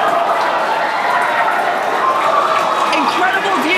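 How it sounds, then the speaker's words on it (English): A crowd cheering at a SpaceX Starship hot-staging event, a loud, dense, continuous roar of many voices shouting and clapping throughout. "You're hearing the cheering. The first ever successful hot stage for SpaceX's Starship."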